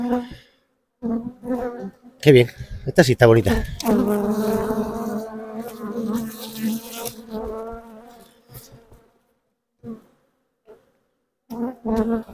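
A dense buzzing of many honey bees around an open hive hums steadily beneath close speech, swelling loudly in the middle and fading before talking resumes.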